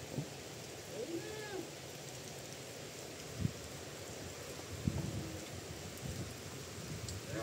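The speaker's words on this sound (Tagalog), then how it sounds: "Yan, dumakas na lalo ang ulan." Heavy rain pours steadily over a farm keeping Brahman cattle, a dense continuous hiss with a couple of brief louder knocks and faint distant sounds underneath.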